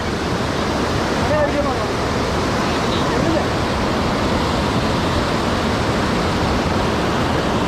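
Loud, steady roar of rushing water at Kacharam Waterfalls in Kanthalloor fills the whole clip, a dense unbroken wash of noise from start to finish.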